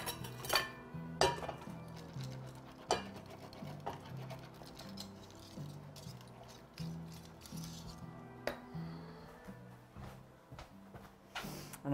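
A roux for a smoky tomato shrimp bisque being stirred in a pot: intermittent metallic clinks and scrapes of a utensil against the pot, spaced irregularly over soft background music.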